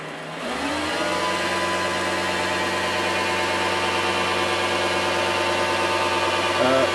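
An MX-210V metal lathe spinning up and then running at a steady speed, with a smooth, constant motor whir and drone that stays even for several seconds, close by and alone.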